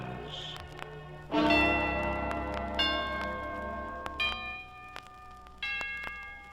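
Orchestral chimes are struck several times, each stroke ringing out with a bright metallic tone that lingers and decays between hits.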